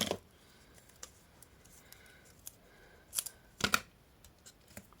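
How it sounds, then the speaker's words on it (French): Sharp scissor snips sound while working with double-sided foam tape on a handmade gift-card bag, a few isolated cuts with two louder close clusters near the end, otherwise quiet. "Mon ciseau."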